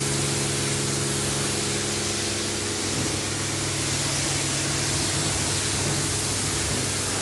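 Coin-operated car wash in Europe spraying water, a steady loud broadband hiss of the pressure jet running without pause, with a low pump drone underneath and no talk.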